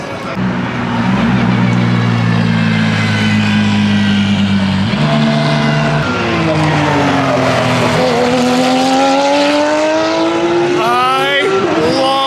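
Porsche GT3 R race car engines roar loudly and continuously in a sim racing game, with rising and falling harmonic pitch as gears shift mid-run and a sharp upward sweep near the end; a voice talks over it.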